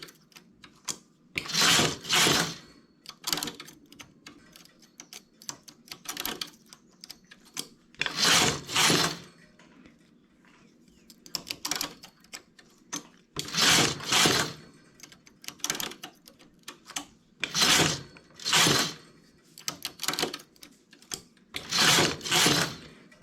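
A knitting machine works a border pattern for a garment finish, with the carriage swept across the needle bed in repeated loud rasping passes, spaced several seconds apart, separated by quiet clicks and handling noises.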